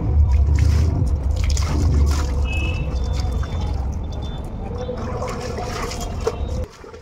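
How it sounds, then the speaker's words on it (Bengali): Leftover laundry wash water is poured onto a mat, making a steady gurgling, trickling flow with bubbling, loud and close, before it cuts off near the end. "জামা কাপড়গুলো কেচে ধোয়ার পর যে জলটা বেরোচ্ছে আমি কিন্তু ওই ম্যাটের মধ্যে ঢেলে দিচ্ছি।"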